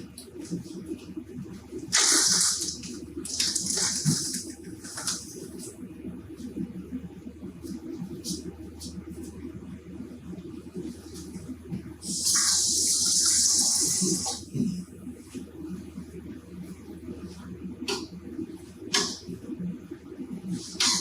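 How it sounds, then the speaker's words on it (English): Water pours in a couple of short hissing bursts, splashing into a container over a steady background of low kitchen noise. "A little water there."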